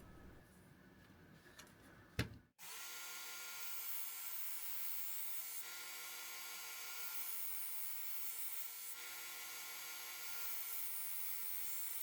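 A Work Sharp powered knife sharpener grinds a dull knife with a steady, loud, continuous whine after a brief click at the start.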